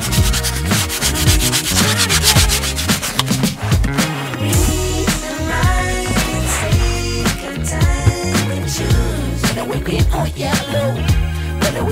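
Vigorous scrubbing of a cracked, dry leather seat in a 2013 KIA Sorento, rapid back-and-forth rubbing strokes repeating loudly and close throughout.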